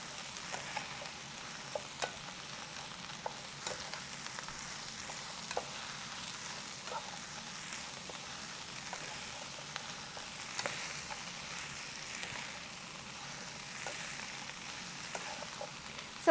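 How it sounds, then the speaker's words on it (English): Bok choy stir-fry sizzling in a pan, a faint steady crackling hiss punctuated by regular light clicks and taps of stirring throughout, with no talk. "And give it a stir."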